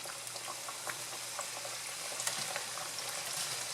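A second batch of pork fries in hot oil with a steady, close, dense sizzle and crackle. Small pops and spatters rise above it now and then.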